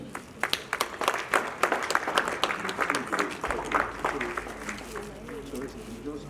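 Scattered audience clapping at a formal Nigerian event, near and uneven, with individual claps standing out as the applause thins, and speech audible underneath.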